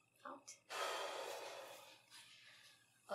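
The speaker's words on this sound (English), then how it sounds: "Can you take deep breath in and all the way out and hold it there?" A patient takes a deep breath in and lets it all out during a chest examination, one long, clear, airy exhale after a short inhale, heard close.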